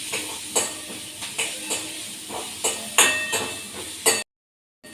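Ingredients with curry leaves sautéing in sesame oil, soft sizzle under a run of regular spoon-on-pan scrapes and clinks about every half second, ending in sudden silence.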